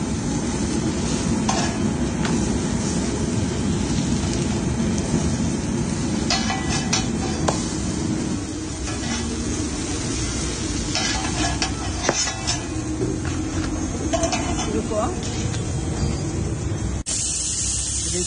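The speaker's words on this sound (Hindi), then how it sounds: "ये देखिए एक तरफ से सेकने के बाद दूसरी तरफ से सेका जा रहा है बढ़िया से।" A Bahubali paratha sizzles steadily as it roasts on its second side on a hot griddle, a constant crackling fry with a few scrapes, close and without speech.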